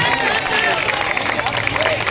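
A crowd of teachers claps at a protest rally in Prayagraj, giving a steady, dense wash of applause heard loud and close, with a voice talking over it.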